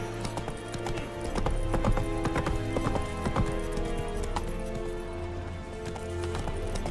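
Roach the horse gallops in The Witcher 3, a steady rhythmic clip-clop of hooves running continuously and fairly loud, with a brief whinny and faint game ambience underneath.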